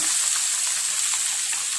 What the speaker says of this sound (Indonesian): minyak sayurnya udah panas, lalu kita masukkan ini bahan bumbu yang kita blender tadi ya.